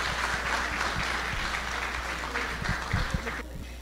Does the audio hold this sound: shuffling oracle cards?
no